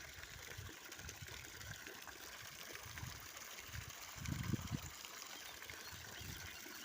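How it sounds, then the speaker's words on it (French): A mountain spring feeding a small stream beside a forest campsite, a low, steady trickle and babble of running water, faint and continuous, with a slightly louder gurgle partway through and no one speaking. "C'est une source de montagne."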